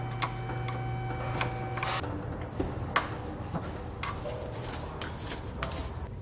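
Sealer is scraped off the frame of a 2020 Mazda CX-5 during a trailer hitch installation. It comes through as quiet, close scratchy strokes with occasional sharp ticks over a low steady background, and no one talks.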